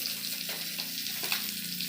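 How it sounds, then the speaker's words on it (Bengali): Black cumin seeds tempering in hot oil in a pan after frying small fish, giving a steady close sizzle with faint crackles throughout, no voices. "দিয়ে এবার একটু কালো জিরে ফোড়ন দেওয়া হলো তেলে।"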